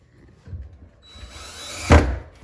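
A power drill drives screws into a glideout cabinet. A short, rising whir builds over about a second and ends in a sharp knock as the screw seats, with softer handling thumps before it.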